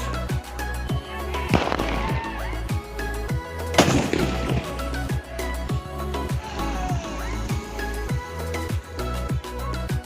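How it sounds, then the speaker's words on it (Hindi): Firecrackers bursting in sharp loud cracks, one big blast then several more, over a steady thumping beat of music. "तो अभी हम यहाँ से फोड़ते हैं पटाखे को"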